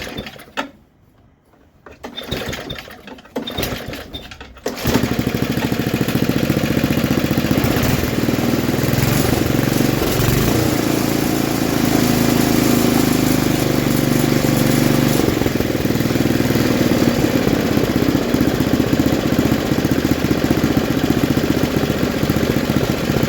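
A snowblower engine, just fitted with a new head gasket, is started at half throttle with full choke: a few sputtering pulls, then it catches and runs as a loud, steady, buzzing drone close by.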